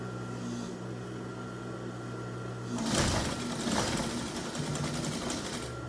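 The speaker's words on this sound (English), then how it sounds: "We'll top stitch the pockets on." A sewing machine top-stitches pockets onto a homemade apron, starting after a faint steady hum and running as a loud, close, rapid mechanical whir with rhythmic needle clatter.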